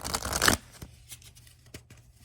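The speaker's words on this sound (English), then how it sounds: "Let's shuffle this, Virgos." Tarot cards riffled in a quick burst of papery shuffling, then a few lighter taps and slides as the deck settles, close and fairly loud.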